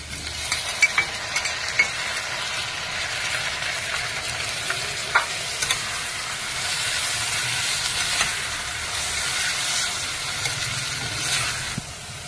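Tomatoes tipped into zucchini curry frying in a pan, giving a steady close sizzle with scraping stir strokes and a few sharper clinks throughout, no talking.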